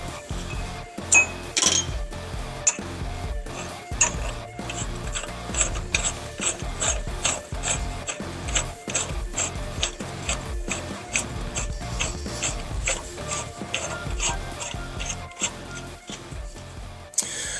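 A ratchet wrench clicks rapidly and repeatedly while tightening axle nuts on a Dana 60 rear axle during a drum-to-disc brake conversion, in bursts of close, crisp ratcheting with brief pauses between strokes.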